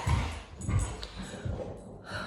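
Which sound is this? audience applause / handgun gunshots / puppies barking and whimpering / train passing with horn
puppies barking and whimpering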